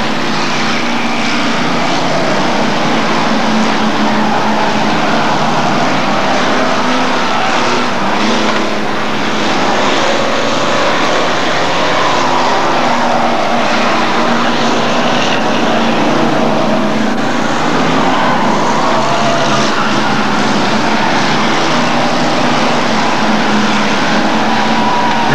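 Hotstox stock cars race around an oval track at Buxton, a dense, continuous roar of several engines mixed with crowd and wind noise, steady and loud throughout.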